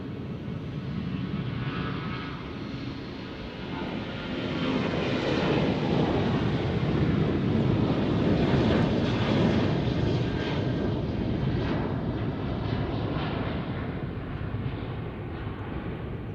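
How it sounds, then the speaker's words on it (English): A Southwest Airlines jet roars steadily down runway 12 at Tucson International Airport on takeoff, a loud, sustained broadband engine rumble that swells midway and holds without any talk. "Now we got Southwest Airlines taking off here on runway 12."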